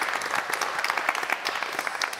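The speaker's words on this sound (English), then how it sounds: "can we have a round of applause for our panel?" A studio audience applauds a technology panel at the close of its session, a dense, steady wash of many hands clapping at moderate distance with no talk over it.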